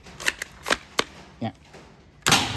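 A gel blaster AWM bolt-action sniper rifle is cocked and fired in a short run of sharp clicks and clacks, with a sliding bolt stroke and a louder burst near the end, all close by.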